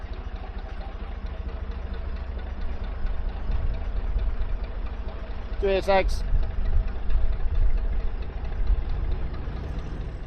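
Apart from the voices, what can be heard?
river boat engine passing on canal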